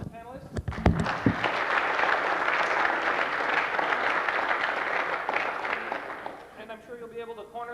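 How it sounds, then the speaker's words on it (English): An audience at a security conference applauds panelists: dense sustained clapping that rises after a brief spoken moment at the start and tapers off near the end, where a voice resumes talking. "Let's give a round of applause to the panelists"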